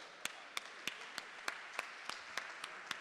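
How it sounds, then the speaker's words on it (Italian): A conference hall audience applauds speakers arriving on stage, claps falling into an even rhythmic beat of roughly three per second over a light bed of scattered clapping. "direi che l'applauso lo facciamo con loro"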